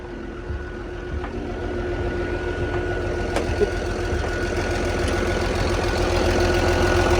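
A Komatsu WA380-6 wheel loader's Komatsu 6D107 diesel engine idles steadily nearby, a low continuous rumble with a faint knocking and a thin whine above it.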